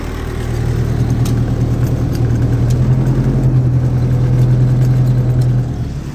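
A tractor engine runs steadily and close, loud throughout with a strong low drone, while the tractor struggles and slips during ploughing.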